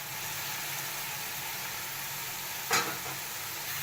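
Beef for nihari fries with garlic in a pot, giving a steady broadband sizzle throughout with one brief louder scrape or clatter near the end; no voices.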